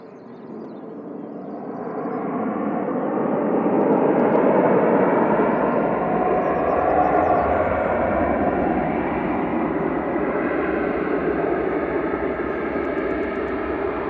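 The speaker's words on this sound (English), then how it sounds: "Qatar's here, coming over the threshold down from Doha. This is flight 21, 787-9" Qatar Airways Boeing 787-9 landing over the threshold, its engine roar swelling in the first few seconds, then holding a broad, steady rumble nearby, alone without voices.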